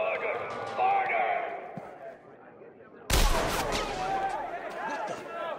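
A single loud gunshot-like blast in the video game Batman: Return to Arkham, set in Arkham City, breaks in midway after softer game sounds and ambience and is followed by a continuing noisy rumble.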